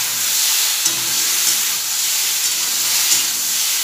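Ground turmeric, cumin, coriander and a little chilli sizzle in a hot pan: a continuous loud, bright hiss and crackle of frying, close up, with faint clinks now and then.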